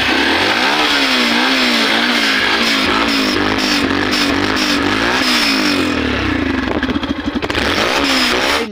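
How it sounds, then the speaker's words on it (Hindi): A Yamaha FZ motorcycle engine runs loud and close, revving with repeated rising and falling pitch sweeps over a steady idle, the throttle blips continuing throughout with no talk. "बाइक को स्टार्ट करते हैं, उसके बाद दोस्तों बाइक का आवाज़ सुनाते हैं"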